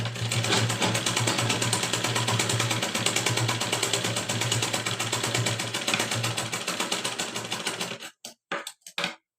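Electric sewing machine running steadily as it stitches a double-folded lehenga hem for a haldi outfit, a fast continuous mechanical whirr for about eight seconds, then several short bursts of stitching with pauses; no talking.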